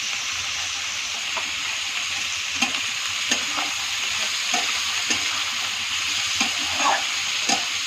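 Vegetables frying with turmeric and salt for a veg pulao, a steady soft sizzle broken by regular spoon scrapes and taps as they are stirred in the pan.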